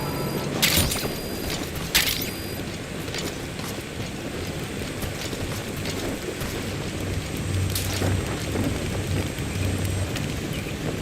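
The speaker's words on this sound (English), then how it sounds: "Caution, rain approaching." Rain and thunder in the video game Metal Gear Solid V: The Phantom Pain, a steady patter of rain on surfaces with two sharp thunder cracks early on, more rumbling later, and no speech.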